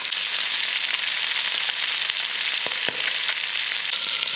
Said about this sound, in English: Fry off the onions and the ginger and the garlic